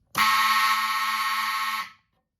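A Gamewell Zans 400 fire alarm panel sounds its signals, a loud, harsh, buzzing alarm tone that starts abruptly, holds steady for nearly two seconds and then stops cleanly into silence.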